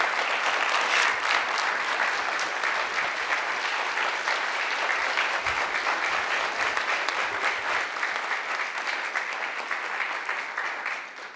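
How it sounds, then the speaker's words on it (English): An audience at a National Hunger and Homelessness Week event breaks into loud, sustained applause, dense clapping that holds steady for about eleven seconds before tapering slightly at the end. "So let's give it one more round of applause"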